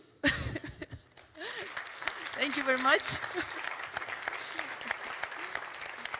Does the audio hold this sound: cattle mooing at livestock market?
no